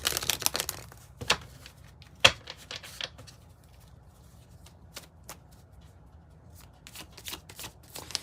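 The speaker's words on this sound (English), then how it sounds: "Let me get this shuffled up." Tarot cards are shuffled in quick, crisp riffles and slaps, loud bursts at first, then lighter, sparser flicks and taps with no talking.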